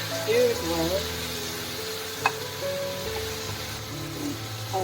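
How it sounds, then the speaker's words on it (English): Beef skin and tomatoes sizzle and hiss steadily in a frying pan while being stirred, with a single sharp scrape of the utensil midway and a faint voice in the background. "I'm gonna add the skin and let's stir it well."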